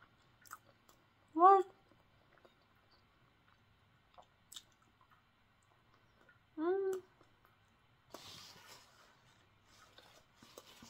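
Salted caramel bread being chewed close up, soft, quiet wet chewing with faint crunches, broken by two short vocal murmurs.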